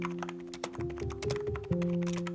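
Clicks of a white gaming keyboard being typed on, a quick irregular patter of close keystrokes at low volume over a faint steady hum.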